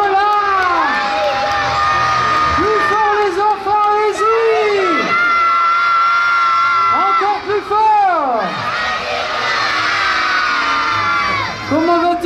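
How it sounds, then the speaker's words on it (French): Crowd of children shouting and cheering together toward Saint Nicolas at an outdoor Christmas village event as he descends the town hall bell tower; loud, sustained overlapping voices with rising whoops and calls throughout. "Allez, on fait signe à Saint-Nicolas! Et on crie après lui, Saint-Nicolas"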